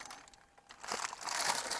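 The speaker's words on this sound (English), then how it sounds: "Just come in a plastic bag here." A plastic bag crinkles while cup holder liners are unpacked in the back of a car, a soft rustling that swells into louder crackling near the end, close and without talk.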